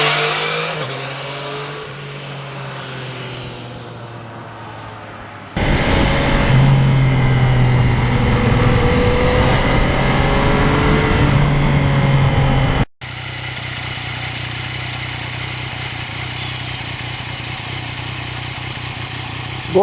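A 2020 Yamaha MT-09 motorcycle pulls hard up through the gears with its quick shifter, the engine note loud and close, rising and dropping between shifts, with wind rush over the ride and no talking.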